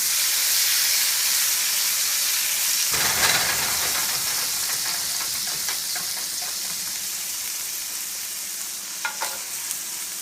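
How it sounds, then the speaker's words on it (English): Garlic and carrots being sautéed in a pan over low-medium heat, a loud, steady hiss of oil broken by a rougher burst of stirring midway and a few clicks near the end. "I'm going to go ahead and saute this garlic,"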